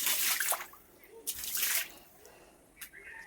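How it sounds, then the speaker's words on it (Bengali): Dirty water runs and splashes out while clothes are being washed, coming in a few separate gushing bursts with quieter gaps between them. "এই যে নোংরা জলটা বেরোচ্ছে, এই জন্যেই আবার ধুতে হলো"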